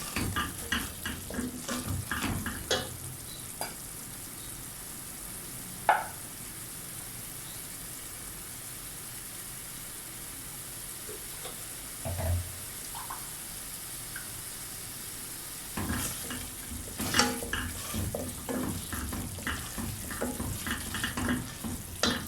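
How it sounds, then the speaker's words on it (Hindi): Masala with turmeric powder and a splash of water fries in a pan for karhi, with a soft sizzle throughout and bursts of spoon scraping and stirring near the start and again toward the end. "ये देखिए मसाला भून चुका है।"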